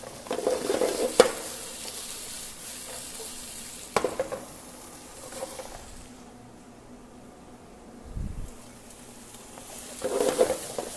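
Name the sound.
sautéing fajita vegetables sizzling in a hot pan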